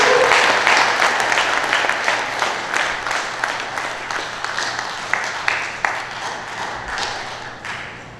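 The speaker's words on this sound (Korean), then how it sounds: "큰 박수 부탁드립니다." A seated audience at a political lecture gathering in a hall applauds a speaker with dense, steady clapping. The clapping is loud and close at first, then thins out and fades toward the end.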